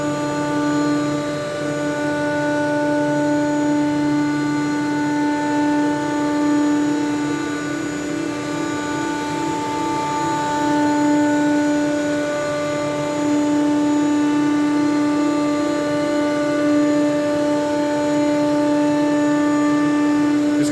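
A shop cutting machine slices strips from a sheet with the dust collector switched off, giving a loud, steady mechanical drone with a layered tonal whine that holds evenly throughout.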